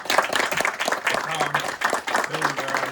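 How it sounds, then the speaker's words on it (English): An outdoor crowd at a park ribbon-cutting applauds the county staff, with brisk scattered clapping throughout and a few voices calling out underneath. "just give them a round of applause"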